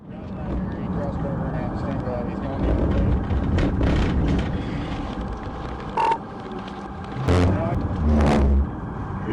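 A fleeing suspect's car accelerates hard during a police chase, a steady loud engine roar with surges of revving and passing road noise, voices talking over it.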